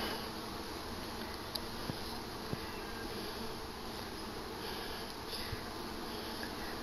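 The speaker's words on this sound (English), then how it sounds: "since we dumped most of the bees right there" Honey bees being installed into a hive, a soft, steady insect hum throughout with a few faint clicks and taps.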